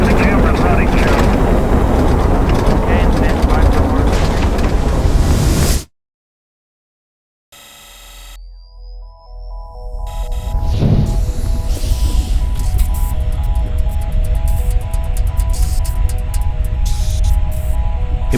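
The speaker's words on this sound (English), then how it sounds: "the world watched Apollo 15 lift off" Archival Apollo 15 Saturn V rocket lift-off: a loud, dense roar fills the first six seconds, then cuts abruptly to silence, followed by a quieter stretch of tones, hiss and a voice.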